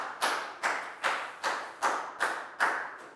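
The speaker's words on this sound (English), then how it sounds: "a big round of applause for Lakgao" Classroom clapping for a student, heard as about seven evenly spaced, fairly close claps in a steady rhythm with no talk, more like one group beating time than scattered applause.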